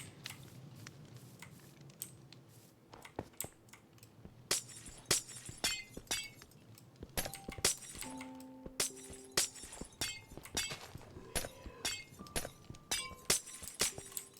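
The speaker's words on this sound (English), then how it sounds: "I love the sound of breaking glass in this game, honestly." Glass repeatedly breaking in a video game, a long run of sharp clinks and shattering bursts in quick irregular succession, with scattered short in-game tones and no talking.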